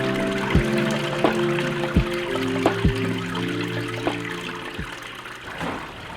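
Continuous running water from a small waterfall in a paludarium splashes and trickles close by, with a few heavier drips and plops standing out against the steady flow.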